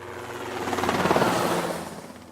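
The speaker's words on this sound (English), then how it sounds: "Helicopters." A helicopter passes overhead, its rotor chop swelling to a loud peak midway and fading again as it moves off.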